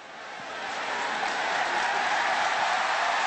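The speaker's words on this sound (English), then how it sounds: "And the crowd roars its approval of that decision." A football stadium crowd at a 2009 Auburn vs Ball State college game roars approval of a fourth-down decision, a broad sustained wall of cheering that swells over the first second and then holds loud and steady.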